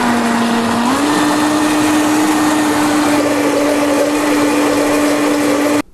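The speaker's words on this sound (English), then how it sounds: "One of the benefits of the Vitamix is it gets the soup super smooth" A Vitamix blender whirs through cauliflower soup at high speed, a loud, steady motor whine that steps up in pitch early on and holds there before cutting off abruptly at the end.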